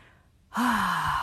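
A single deep inhalation during a singing breathing exercise starts abruptly after a short silence and carries on as a loud, breathy, slightly voiced draw of air.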